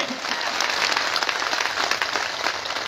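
Strong, sustained applause from a crowd at a political gathering after a speech by Dr. Farooq Abdullah, steady dense clapping throughout with no voices over it.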